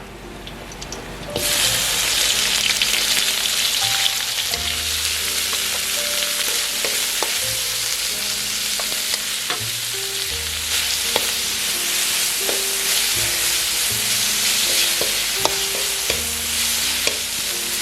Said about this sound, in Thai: ไปผัดรวมกับน้ำมันกระเทียมเจียวครับให้พอหอมนะครับผม